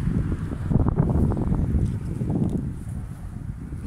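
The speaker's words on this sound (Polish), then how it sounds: "Trochę wiatru." Outdoor wind on a cool day of about 9 degrees, buffeting the microphone with a steady low rumble that swells early and then eases, with no voices.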